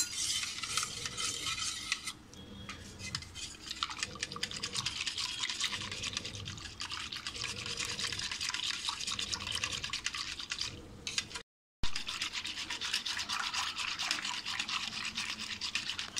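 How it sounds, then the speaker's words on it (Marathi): A hand whisk churns spiced buttermilk in a bowl with a continuous wet, scratchy swishing that runs close and fairly quiet, broken by a brief gap before resuming. "म्हणून मी या विक्सरनी घोटणार आहे"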